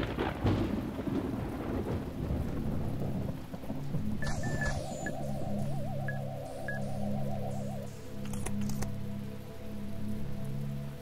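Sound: rain and thunder in the video game The Talos Principle

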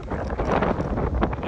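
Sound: strong wind outdoors

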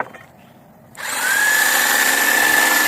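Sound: Dnipro-M JS100LX jigsaw running with blower

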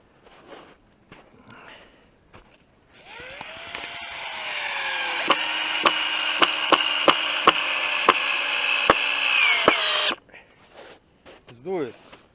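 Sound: cordless screwdriver driving screws into wood

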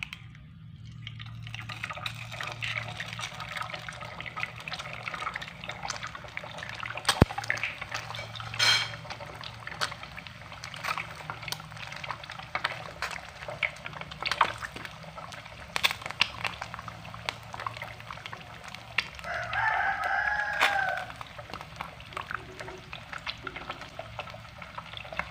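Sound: frying eggs in a pan

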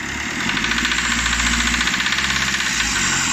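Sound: Fiat Linea 1.3 engine revving with ticking noise

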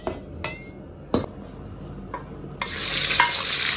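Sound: oil heating and sizzling in a wok

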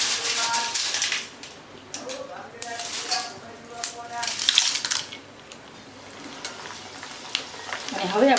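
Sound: poha (flattened rice) frying in hot oil

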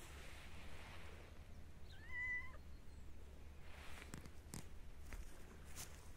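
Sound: cat meowing

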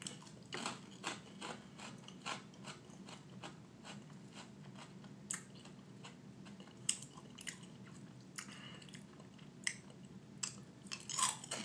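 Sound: chewing cereal

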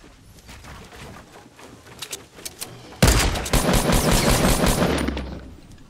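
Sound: gunfire in the video game Fortnite

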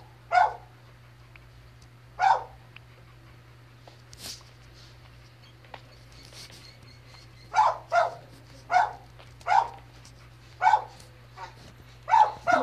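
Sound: dogs barking in the neighbouring house

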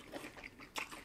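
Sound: biting crunchy fried chicken

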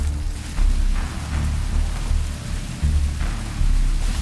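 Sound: rain starting to fall during abandoned asylum exploration

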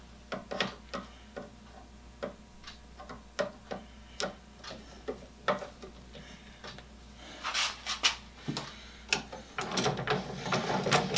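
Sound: tightening a brass screw with washer on Panavise mount

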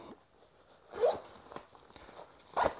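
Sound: leather zip on a binocular accessory case being opened

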